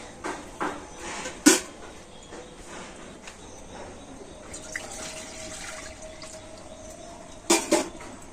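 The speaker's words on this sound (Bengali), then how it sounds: "প্রথমে আমি কড়াতে দিয়ে দেবো জল" Water poured into a kadai (wok) on a home kitchen stove before pumpkin pieces go in; a faint, quiet splash and trickle with a few sharp clatters of the pan.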